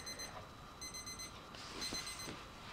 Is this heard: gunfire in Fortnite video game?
no